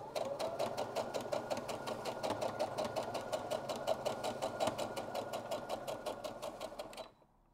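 A sewing machine stitches over fabric on a puff quilt square in one steady, rapid needle clatter that runs close and loud for about seven seconds, then stops abruptly.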